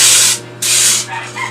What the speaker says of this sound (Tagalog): So ito na guys, spray natin to.